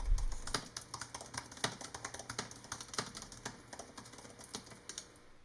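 Keys clatter steadily on a 2018 15-inch MacBook Pro keyboard, a fast run of close, crisp clicks and taps with no voices.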